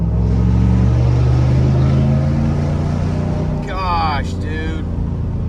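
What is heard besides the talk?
V8 pickup truck accelerating with loud exhaust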